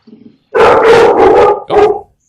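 A dog lets out a loud, close bark, a long rough burst followed by a shorter second bark, after a brief low sound at the start.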